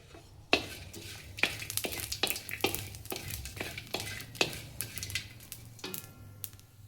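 Whole spices for kala masala roasting in a pan with a little oil, stirred with sharp scraping strokes in an irregular rhythm over a soft sizzle, close and quiet.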